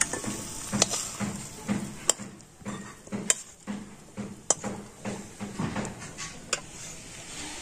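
Milk boiled down to a thick kheer-like filling being stirred in a pan for a bread-based sweet, soft scraping with sharp intermittent spoon clicks against the metal and a faint sizzle, close and fairly quiet without talk.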